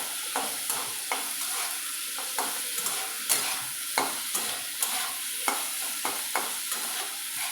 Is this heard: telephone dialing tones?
no